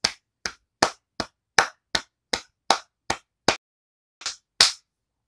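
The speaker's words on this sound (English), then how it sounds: "How about a round of applause?" Eleven sharp separate claps in an even rhythm with a short pause near the end, close and fairly loud, a single person clapping at a church service rather than a full audience.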